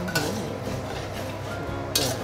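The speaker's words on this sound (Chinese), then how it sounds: "我要调这个薯粉，要用冷水来调的" Potato starch stirred with cold water in a bowl with a spoon, a soft swirling scrape with a couple of light clinks against the bowl, close and alone.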